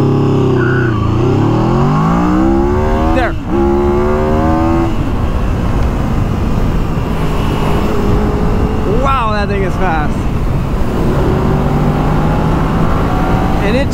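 A powerful cruiser motorcycle accelerates hard from 0 to 60 on a highway, engine note climbing through several gears with brief shift breaks, loud and close under steady wind roar, with a rider talking over it.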